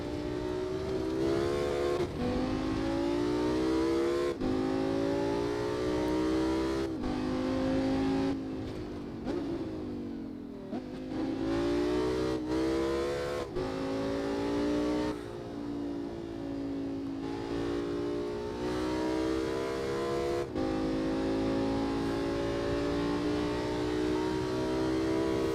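A Nissan 370Z engine in the Assetto Corsa racing game revs up repeatedly through the gears. Each climb in pitch drops off at a shift, heard loud and sustained from the driver's position, with no talk.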